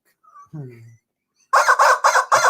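A rooster crows in a short sound effect: a faint brief call first, then four loud, harsh, closely spaced bursts that end the clip.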